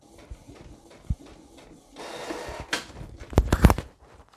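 A printer running off a pure sine wave inverter prints a page, with soft mechanical whirring and feeding noise building into a louder rush and a few clunks near the end, close and fairly quiet.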